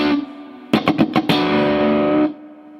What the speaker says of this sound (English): Then we're going to follow that up with another bend on that double stop